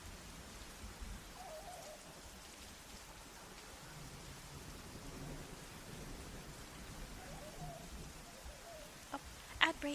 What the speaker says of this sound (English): There's a light rumble of thundering in the background.